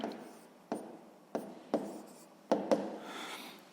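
Fractions being written by hand with a pen or chalk: several separate scratchy strokes in short bursts with pauses between them, close and fairly quiet, with no talk.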